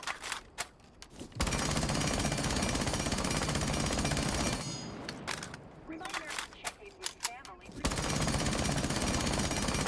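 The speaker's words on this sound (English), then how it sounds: "I'll show you the P90 now." A P90 submachine gun fires in the video game Rainbow Six Siege in long sustained automatic bursts, loud and close, separated by a pause with scattered shots and game noise.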